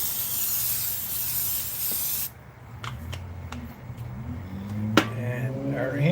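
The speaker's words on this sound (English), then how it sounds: "And we're gonna generously spray that." Cooking spray hisses onto a skillet outdoors in a steady spray lasting about two seconds, then stops, followed by faint clicks, a light knock and rustling.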